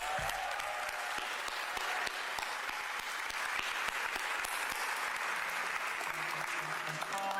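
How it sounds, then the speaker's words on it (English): An audience at a Los Angeles Olympic flag celebration applauds wheelchair fencers after a demonstration bout, with sustained, even clapping from a crowd that carries on throughout. "Give them a round of applause."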